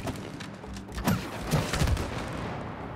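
Gun shooting in the video game It Takes Two: a few thumping shots and impacts in an irregular cluster, moderately loud over steady game background, with no clear talking.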